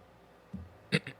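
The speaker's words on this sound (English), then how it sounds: "Sorry, I had to clear my throat there." A single person clears their throat: a short low grunt followed by two quick, rougher bursts, close and brief against a quiet room.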